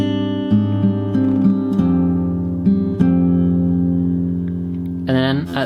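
Fingerstyle acoustic guitar plays a phrase from a theme, with low strings plucked together and sustained notes ringing out close and clear before a brief brighter strum at the end.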